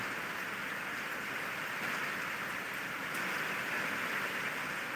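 Heavy rain falls in Chhatrapati Sambhajinagar as an even, unbroken roar of drops that holds constant from start to finish, with no one speaking.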